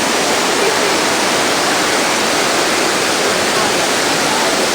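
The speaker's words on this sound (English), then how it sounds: "This was it, beautiful waterfall." Steady, dense roar of a jungle waterfall near an Embera village in Panama, loud and close, with a constant broadband rush and no voices.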